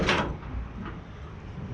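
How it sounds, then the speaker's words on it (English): A 1975 Chevy stepside pickup truck door slams shut with one solid thump, followed by a brief fading rumble. "this door shuts and works much better than the driver door"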